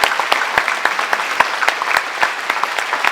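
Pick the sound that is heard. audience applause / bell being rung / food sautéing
audience applause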